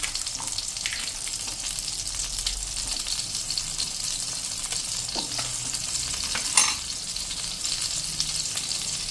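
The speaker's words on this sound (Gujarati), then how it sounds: "5 કળી જેવું આપણે લસણ પણ નાખી દઈશું અને 2 મરચાના કટકા પણ આપણે આ રીતે નાખી દઈશું." Garlic cloves and chili pieces sizzle steadily in a hot pan for radish chutney, a continuous close frying hiss with occasional light clinks and one sharper knock near the end.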